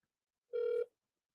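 A single short ringback tone sounds on an outgoing telephone call, one clean electronic burst with silence before and after.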